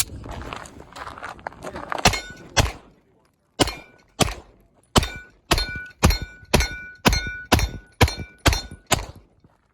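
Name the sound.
Staccato P handgun with Parker Mountain comp firing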